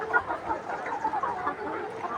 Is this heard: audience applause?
no